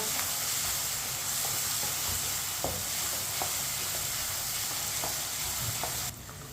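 Steady loud sizzling of ginger and garlic frying in a hot pan, with occasional light clinks of stirring, continuous hiss throughout.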